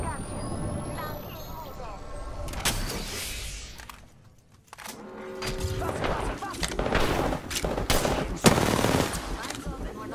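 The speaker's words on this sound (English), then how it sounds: "They're shooting at me." Automatic weapon fire in the shooter game Apex Legends, with rapid bursts and single shots crackling over game sounds, loud and close, broken by a short lull partway through.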